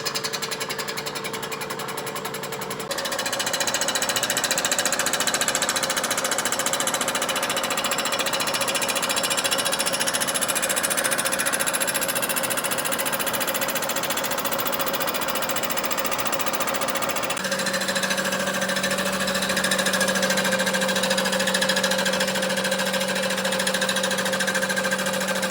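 A miter saw running through a cut during a tune-up, its blade spinning in the wrong direction, gives a loud, steady buzzing drone that sets in after a short quieter start, shifting pitch near the end, with no talking.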